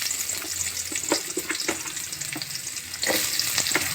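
Onions frying in oil for a peanut chutney, a steady broadband sizzle with scattered crackles and spatters, fairly loud and close, with no voices.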